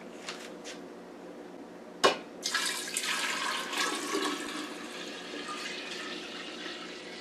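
Room-temperature tea poured into a continuous-brew kombucha jar holding a SCOBY and starter vinegar: a clunk, then a steady close stream of liquid splashing and filling, running on alone without talk.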